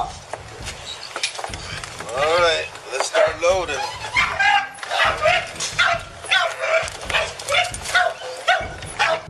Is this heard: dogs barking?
yes